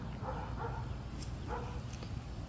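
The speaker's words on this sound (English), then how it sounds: "You hear that doggy?" A dog barks outdoors in a few short bursts, somewhat distant over a steady low background rumble, with no speech.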